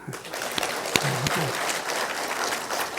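Church congregation applauding the children at a packed service, a dense sustained round of clapping with a few louder individual claps near the start.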